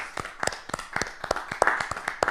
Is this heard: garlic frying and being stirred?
no